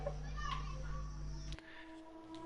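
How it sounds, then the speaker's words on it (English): Children scream and play outside on a busy street. The sound is a continuous, moderately distant mix of kids' shrieks and chatter over a low hum of background noise. A steady hum cuts out partway through. "So I do apologise if you hear any kids screaming in the background."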